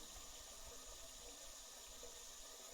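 Steady, faint hiss of a water tap left running in the Phasmophobia video game, a continuous distant gush with no other sounds standing out.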